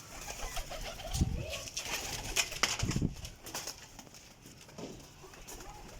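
High flyer champion pigeons coo in soft, low bursts near and far, with brief rustles that may be wingbeats.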